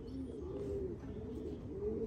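Racing pigeons arriving at the loft after a race give a steady, soft cooing that runs continuously from nearby under a low background.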